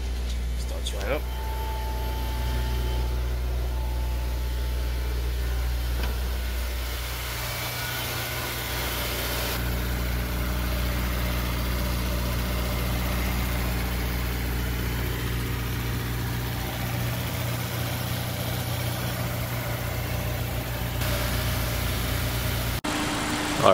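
A Honda S2000 AP1 with a K&N intake idles at a steady low drone after starting up, the engine note shifting slightly partway through, with little else over it.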